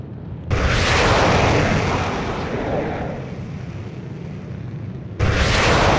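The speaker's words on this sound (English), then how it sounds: "Missiles locked. Building destroyed." A building blows apart under a missile strike in the jet combat game Air Supremacy 2. It starts as a loud, sustained roaring explosion, fades into a rumbling tail, and a second blast erupts near the end.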